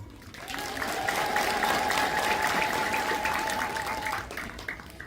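An audience bursts into sustained applause at an Ethiopian Orthodox church gathering, a dense wash of clapping that swells quickly, holds steady and then tapers off.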